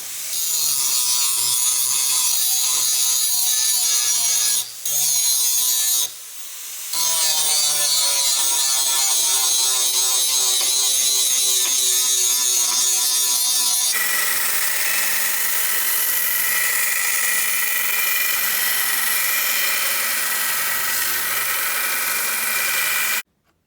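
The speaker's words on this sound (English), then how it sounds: "I'm gonna clamp this down and grind my bevels in, and then go to the belt sander" A forged kukri blade ground on a belt sander to shape its bevels, a loud continuous whine with shifting pitch, a few brief pauses, then a steadier rough grind.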